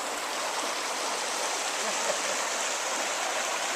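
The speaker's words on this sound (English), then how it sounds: "Here we are in the beautiful Alsea River" Steady, dense rush of the Alsea River flowing, a continuous broadband water sound that is close and uniform throughout with no voices.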